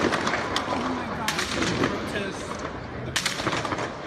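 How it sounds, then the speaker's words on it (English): Gunshots at a 2016 Dallas protest march: several sharp cracks ring out amid a noisy crowd backdrop, with murmuring voices and commotion underneath. "gunshots rang out."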